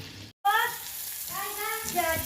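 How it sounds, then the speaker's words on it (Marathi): Soft sizzle of onion frying in butter in a pan, steady and close, with faint voices and a brief dropout near the start. "बटर टाकलेलं आहे कढईमध्ये त्यानंतर आता कांदा टाकूया"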